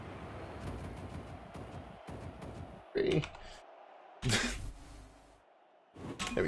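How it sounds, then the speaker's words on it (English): Rapid typing on a computer keyboard gives a dense run of clicks under background game audio, with brief louder bursts partway through. "i just type really quickly"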